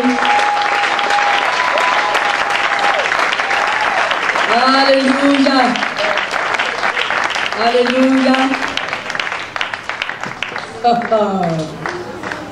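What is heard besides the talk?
congregation applauding and cheering for the Lord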